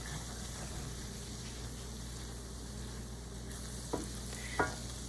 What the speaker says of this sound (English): after the beef is browned, I'm adding the seasoning, stirring it around a little bit.